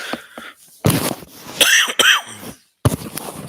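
A person coughs several times in short, harsh bursts at close range, with brief gaps between fits and a final cough after a moment of silence.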